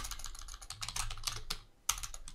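Quick, uneven typing on a computer keyboard, close and clear, with crisp key clicks in short bursts and a brief pause near the end before a sharper keystroke.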